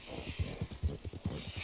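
Horse hooves clip-clop in a steady rhythm in Red Dead Redemption 2, a series of close, moderately loud thuds on the ground with faint background ambience.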